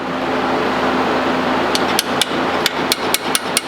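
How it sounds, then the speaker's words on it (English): About nine sharp metallic hammer taps on a 10mm Allen key ring out in an uneven rhythm over a steady background hum, close and clear. "Going to hit that with a hammer."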